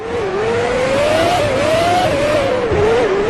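A Formula One engine in the Formula One 2003 video game at Monaco, with Renault's Jarno Trulli chasing Nick Heidfeld, drones in a steady high whine that rises and dips slightly as it revs, loud and continuous with no talk.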